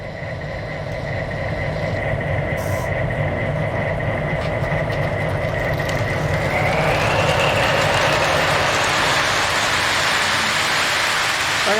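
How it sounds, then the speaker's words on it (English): A model train sound box car runs behind Santa Fe engines, its motor sound revving up partway through, rising in pitch over a continuous loud rolling rumble of the train on track. "as it moves, and I'll do it slow, you'll hear the motor starts revving up."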